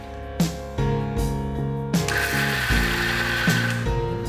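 A mixer grinder grinds soaked dal into batter for onion medu vada, giving a loud, continuous whirring motor drone with a rattling, ratchet-like churn throughout and no talking.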